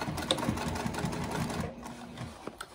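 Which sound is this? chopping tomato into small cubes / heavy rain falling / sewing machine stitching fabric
sewing machine stitching fabric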